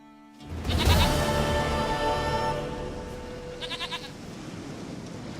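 A goat in The Witcher 3 gives a long, wavering bleat up close over a steady game ambience, followed by a shorter, fainter bleat a few seconds later.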